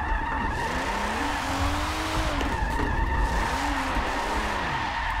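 Tires screech as a vintage drift car slides sideways in Forza 7, driven on a Logitech G920 wheel. The squeal is loud and wavering with a steady engine drone underneath, swelling and bending in long arcs, and no one speaks.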